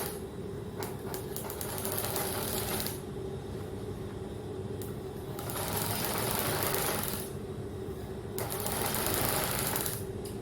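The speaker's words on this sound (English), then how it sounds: "when you are sewing gathers the stitches, make sure that the thread on the bobbin is full" Sewing machine stitching gathers along a skirt panel, running in steady rapid bursts with short pauses between them, close and fairly loud with no talking.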